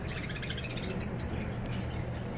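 A bird chirps in quick, high, repeated tweets, close by, over a constant loud low rumble of background noise.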